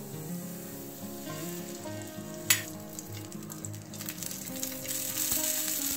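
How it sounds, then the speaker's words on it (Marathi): Eight or nine green chillies roast in a little oil in a pan, giving a steady close sizzle and crackle with small pops and a brief clatter of stirring. "यावर आपण थोडं तेल टाकून घेऊ आणि यांना छान असे भाजून घेऊ।"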